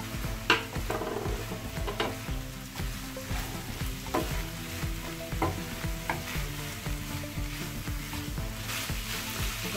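Chicken stuffing simmering and being stirred in a pan, a steady frying sizzle broken by repeated scraping and clinking strokes of a utensil against the pan, close and moderately loud, without talk.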